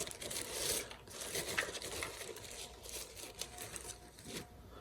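Packaging of a screw-in light bulb being opened, with close crinkling and rustling of plastic and cardboard plus a few small taps and clicks, fairly steady and faint throughout.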